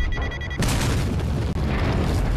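A grenade goes off in Resident Evil 4 VR, a sudden loud boom that swells into a heavy, sustained rumble after a brief quieter lead-in.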